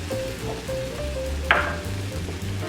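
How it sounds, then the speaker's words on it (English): Squid tentacles sauté in a hot pan for black paella, with a soft continuous sizzle and one brief sharp clatter partway through. "The next one is to saute again the tentacles."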